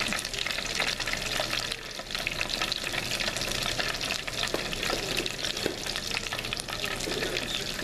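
Battered shrimp fry in hot oil for a seafood batter, making a dense, continuous crackling sizzle that holds steady and close throughout, with no talk over it.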